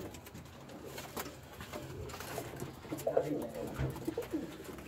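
Teddy pigeons coo softly in a loft, giving a few low, rolling calls from close by against quiet background noise.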